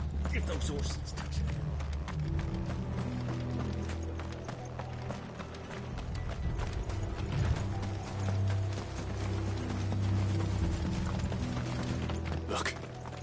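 Horses clip-clop along with a clatter of hooves and rattling wagon mechanisms, a continuous rhythmic clatter at moderate volume while people talk over it.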